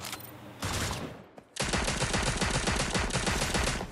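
Gunfire in Cyber Hunter: a short burst, a pause, then sustained rapid automatic fire, loud and close, without talk.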